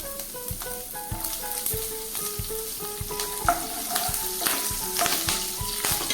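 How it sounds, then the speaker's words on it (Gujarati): Chopped green chilies and ginger strips sizzle in hot oil, with steady crackling frying and rhythmic clinks of a spoon stirring against the pan, close and alone. "બંનેને આપણે એડ કરી દઈએ"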